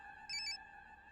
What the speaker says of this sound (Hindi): मुक्ति कपूर का फोन।